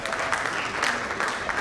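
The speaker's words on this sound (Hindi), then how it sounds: "एक बार मैं चाहूँगा उनके लिए भी आप तालियां बजाएं।" Applause from the audience at a mushaira, an Urdu poetry gathering at a film and literary festival in Bhopal, a brief burst of dense hand clapping, fairly loud and continuous.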